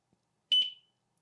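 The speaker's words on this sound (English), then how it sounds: "Ooh, that beep is so loud." A single loud, piercing electronic beep sounds from a Commodore 1541 disk drive setup fitted with a dual kernal ROM adapter. It is short and sharp, stands alone in near silence, and trails off quickly.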